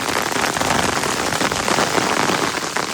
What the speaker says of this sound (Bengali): পুরো বরফ বৃষ্টি হইতেছে আমাদের লেস্টারে